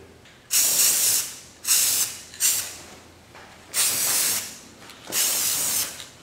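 Five hissing bursts from a spray can or spray gun as a second coat of paint goes onto a star, each lasting under a second to about a second and a half with short pauses between, close and fairly loud.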